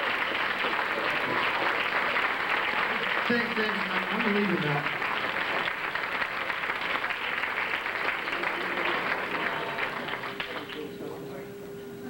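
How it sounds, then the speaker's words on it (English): An audience applauds steadily after a song is performed, with clapping continuing throughout while voices speak over it and the applause tapers toward the end. "Give him a round of applause"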